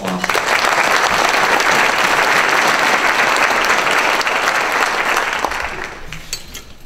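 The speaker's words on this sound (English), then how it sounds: "So a round of applause to all of our sponsors." A large audience at a county address event claps loudly and steadily for about five seconds, then the applause thins and fades out.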